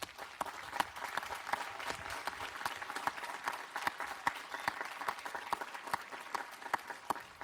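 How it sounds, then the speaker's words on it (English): A university commencement crowd gives sustained applause, many distant hands clapping in a large hall with individual sharp claps standing out above the steady patter. "Please give them a warm applause."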